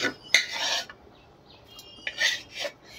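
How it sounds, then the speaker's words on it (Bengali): A metal spatula scrapes and clatters against an old, blackened iron wok, some 25 years in use, while cooked greens are lifted out, in two bursts of scraping separated by a quiet pause. "তার আমি শাকটা উঠিয়ে নিই, তরকারিটা হোক।"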